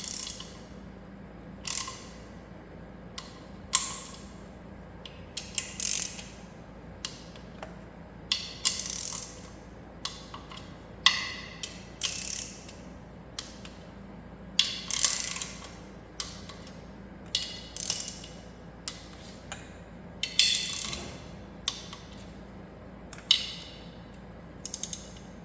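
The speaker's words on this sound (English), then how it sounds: "So, torque these intake bolts." A hand ratchet works intake bolts on an Allis-Chalmers 190XT tractor, giving short bursts of rapid pawl clicks separated by pauses, repeated a dozen or more times, close and clear with no talk.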